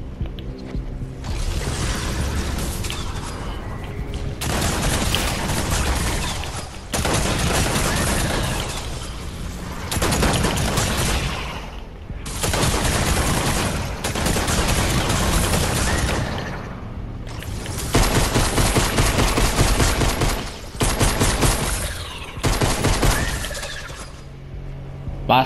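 Pump shotgun blasts in Fortnite, a Creative-mode zombie challenge, firing in loud dense bursts of several seconds each, separated by brief pauses.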